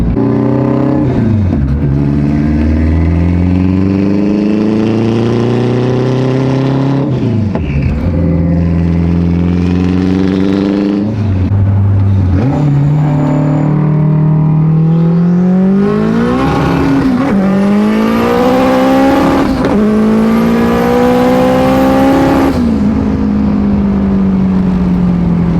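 A 700+ whp all-wheel-drive Honda Civic running on E85 accelerates hard from inside the cabin, its engine loudly climbing through several gears with sharp shifts between rising revs and high-pitched whine, turbo whistle near the end, very loud throughout.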